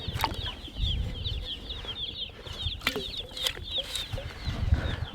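Newly arrived Cornish cross chicks fill the space with a dense chorus of high, rapid peeps, close and continuous, with occasional soft scuffling and wing flutters underneath.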